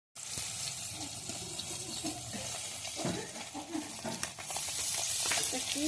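Panch phoron five-spice and dried red chillies hit hot oil for a fish curry, making a steady hissing sizzle that swells louder near the end. Faint voices murmur underneath.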